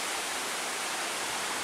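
A river rushes steadily at a backpacking trail's river crossing in Michigan's Porcupine Mountains, a constant broadband wash of flowing water, fairly close and unbroken, with no voices.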